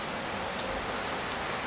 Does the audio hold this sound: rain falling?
yes